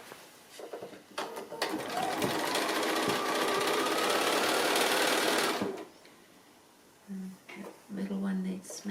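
A sewing machine stitches the side seam of a small fabric drawstring bag in one long, steady run of rapid whirring, close by, followed by a pause and a couple of short bursts, with a voice speaking quietly near the end.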